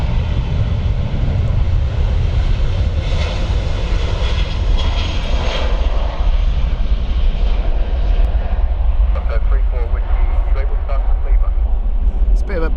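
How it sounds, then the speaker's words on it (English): A Ryanair aircraft on the Dublin flight at Stansted Airport, jet engines giving a loud continuous roar with deep low rumble, while a commentator speaks over the noise. "Bit of a bread and butter flight here for Ryanair, the Dublin flight"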